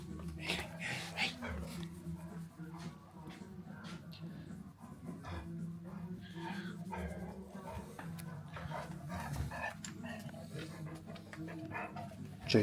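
A dog greets a delivery driver at a plumber's merchant, panting steadily up close for several seconds amid background bustle, with people talking nearby.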